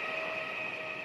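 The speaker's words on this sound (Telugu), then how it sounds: "ఆపోజిట్లో ఇంకో ట్రైన్ కూడా స్టార్ట్ అయింది" Steady mechanical rumble of a train getting under way in an Indian railway video game, with a sustained tonal hum and a constant, fairly loud level throughout and no talking.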